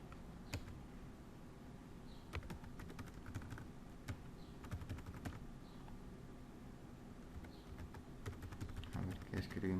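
Steady typing on a computer keyboard while writing C# code, with irregular clicking keystrokes at close range and faint background noise throughout.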